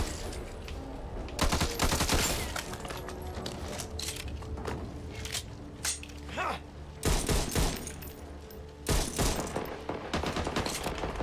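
Shotgun fire in Back 4 Blood, several sharp broadband blasts spaced a few seconds apart amid denser bursts of gunfire, loud and close, with game noise between shots and little talk.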